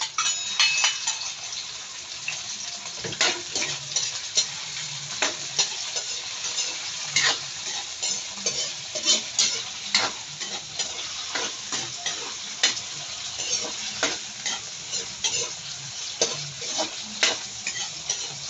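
Chopped tomatoes sizzle steadily in a hot pan for pinakbet, a Filipino vegetable dish, while a spoon scrapes and stirs them in an uneven rhythm of clicks and scrapes, close and moderately loud with no talking.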